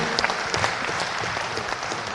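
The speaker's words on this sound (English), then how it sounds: "We can give a round of applause for that" Crowd applause at a Chaminade hockey number retirement ceremony, steady, close and fairly loud clapping that continues evenly throughout with no talk over it.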